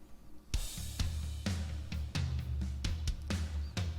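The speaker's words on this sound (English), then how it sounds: "So the drum set by itself sounds like this." A soloed drum kit from a metal mix plays alone, with punchy kick and snare hits and bright cymbal crashes landing in a steady, driving pattern.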